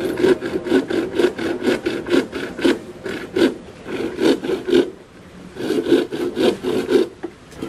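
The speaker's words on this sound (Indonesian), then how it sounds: "memotong bambu sesuai dengan gambar kerja yang sudah kita buat" A hand saw rasps through bamboo in quick repeated back-and-forth strokes, close and loud, with a brief pause before the sawing resumes.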